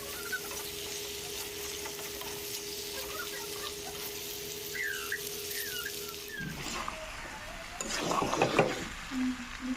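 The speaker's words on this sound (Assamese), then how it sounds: "এতিয়া বিলাহীৰ লগত মাংসখিনি একেলগে ভাজি ল'ম।" Chicken pieces frying with tomatoes in a pan give a steady, quiet sizzle with occasional stirring. Near the end there is a louder burst of scraping and sizzling.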